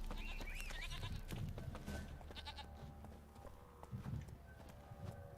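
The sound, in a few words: Geralt's horse Roach galloping in The Witcher video game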